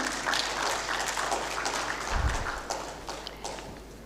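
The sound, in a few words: audience applause welcoming a speaker on stage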